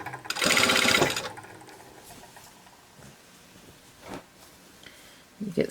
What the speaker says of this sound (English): And I am sewing the lining to the bodice there.